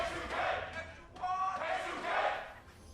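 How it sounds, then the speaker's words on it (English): Arena crowd at a League of Legends LCS EU esports match between Team ROCCAT and H2k-Gaming, cheering in rising and falling swells of broad roaring noise, loud and steady across the moment with no clear speech. "The crowd."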